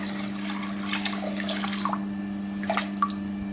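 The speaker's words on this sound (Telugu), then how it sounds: "పప్పుకు కావాల్సిన నీళ్ళు వేసేసినా అండి" Water is poured into a pot of soaked moong dal to cook it, heard as a soft, splashing trickle with a few louder gushes and drips, close by and without talk.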